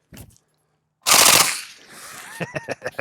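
A rapid burst of loud gunfire hits lightweight American-made body armor at an outdoor test, followed by several separate sharp shots.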